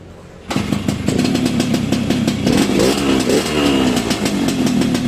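A restored 1980s Yamaha RXS115 motorcycle fires up after a quiet start, settling into a loud, close two-stroke idle with rapid popping pulses and slight rev changes; no talking.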